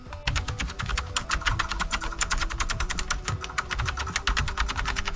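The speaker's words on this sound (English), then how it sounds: "like typing." AI-generated typing sound effect: rapid, evenly spaced keyboard key clicks close up, continuous for several seconds over a faint low rumble, no voices.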